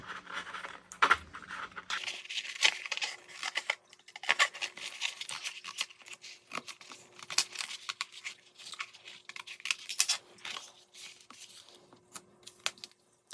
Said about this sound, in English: I like to go through and cut around each word to make the weeding a little easier